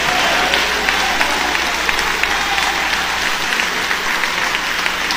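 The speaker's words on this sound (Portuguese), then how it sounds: "Eu quero ouvir palmas misturado com glória a Deus." Congregation applauding loudly in a church, a sustained, dense roar of many hands clapping at once, close and even throughout with a faint low hum underneath and no voices over it.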